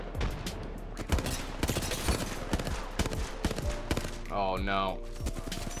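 Gunfire in Apex Legends on King's Canyon, with rapid bursts of close, sharp shots repeating throughout as a player speaks briefly over the fighting.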